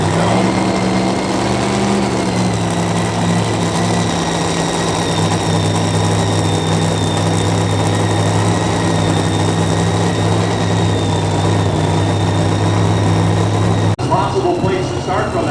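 Loud, steady roar of a 1941 Willys pulling truck engine fitted with 20-car style headers at a super modified two-wheel-drive truck pull in Jerseyville, Illinois, droning continuously near the microphone before shifting character at the end.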